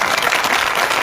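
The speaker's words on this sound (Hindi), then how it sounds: "उसके लिए इतनी ही ताली बज रही है।" An audience at an Indian cultural festival breaks into loud, steady applause, close and dense, many hands clapping together for about a second with no talk on top.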